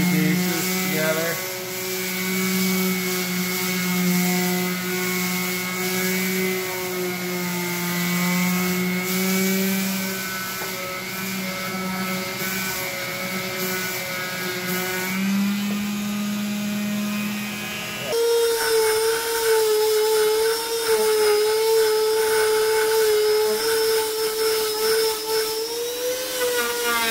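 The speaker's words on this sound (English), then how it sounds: "I want to sand these two bases together." Power sander working the edges of two wooden cabinet bases held together, a loud steady whine running throughout with a shift in pitch partway as the tool's load changes.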